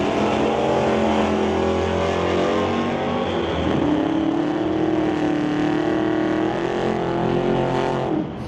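A 1967 Camaro with a 468 Chevrolet engine roars loudly at a drag race, its revs climbing and wavering in a sustained, thunderous run before dropping off at the end.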